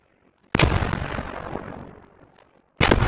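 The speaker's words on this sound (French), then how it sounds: "Grenade!" A grenade detonates during a military attack-and-defense training exercise, a sharp close blast that decays over about two seconds, followed by a second abrupt explosion at the end.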